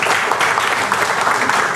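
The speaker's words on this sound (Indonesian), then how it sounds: "Tepuk tangan." Dense audience applause at a business marketing presentation fills the moment steadily, loud and close, with no pauses.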